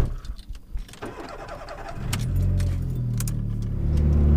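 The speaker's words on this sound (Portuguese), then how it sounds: "vamos ligar o golzinho" Keys jangle before a Volkswagen Gol's engine starts, cranking briefly and catching into a steady, close idle.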